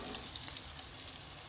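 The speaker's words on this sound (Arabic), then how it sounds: "فوالا هنا كيفاش راني نقلي فيهم، فوالا باش يجو يجو محمرين" Cauliflower pieces frying in a modest amount of oil in a pan for a cauliflower tajine, giving a steady, close, continuous sizzle with no voices.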